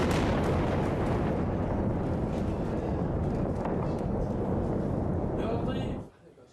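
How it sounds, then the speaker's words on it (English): Heavy rumbling explosions from a rocket attack on Damascus, a loud continuous roar of blasts that cuts off abruptly near the end. "Huge explosions shake the Syrian capital, Damascus."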